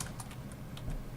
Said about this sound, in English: and then in brackets we type